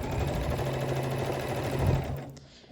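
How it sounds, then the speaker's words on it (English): A sewing machine stitches T-shirt fabric for a blanket, a steady close whirring run that slows and stops near the end, with no talking. "I'm going to sew until I get to where my finger is here."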